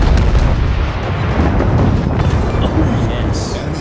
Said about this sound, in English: The secondaries are firing already.